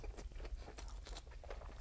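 Biting and chewing a toasted Subway Big Hot Pastrami Melt sandwich gives a quick series of close, crisp crunches and crackles from the bread, steady and faint, with no talking.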